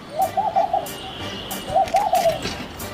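Two soft, low pigeon coos, each a short rolling phrase, separated by a pause, with faint background noise between them.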